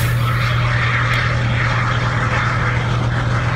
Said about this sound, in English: that was a plane coming in for an emergency landing at the Chester County Airport